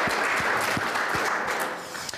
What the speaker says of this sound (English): Let's have a nice round of applause for our Shawnee County Sheriff's Office.